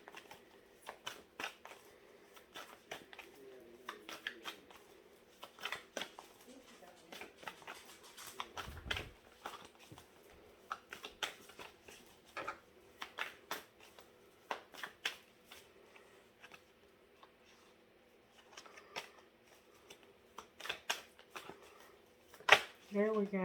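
Tarot cards are shuffled for a reading, giving soft, close riffles and light pattering card slaps that repeat irregularly throughout, with a louder snap near the end.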